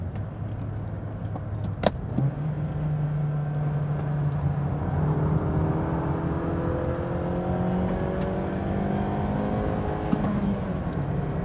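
A Mazda3 compact car's engine revs steadily upward toward its soft rev limiter, a rising continuous drone under a close, constant cabin hum, with a couple of brief clicks along the way.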